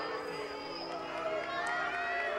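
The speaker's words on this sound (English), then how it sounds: "Crowd chanting Luke." Baseball crowd at a high school region final playoff game, chanting a batter's name in a steady, sustained roar of many voices, with a faint announcer voice on top.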